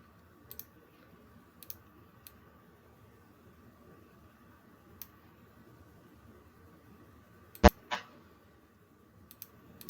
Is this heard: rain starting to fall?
no